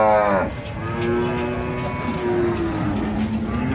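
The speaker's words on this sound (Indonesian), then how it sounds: "Inilah jenis sapi limosin." Limousin cattle at a livestock market lowing in long, drawn-out moos, one close and loud call after another with the busy murmur of the market behind.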